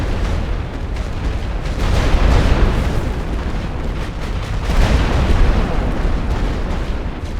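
An artillery barrage in the World War I strategy game The Great War: Western Front rumbles as a continuous heavy roar of overlapping distant booms, swelling twice in loudness.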